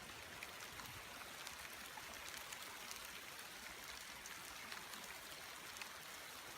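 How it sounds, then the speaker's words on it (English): Rain pouring outdoors during a thunderstorm on a hunt, heard as faint, steady, hissing patter with no distinct thunder. "It's officially pouring,"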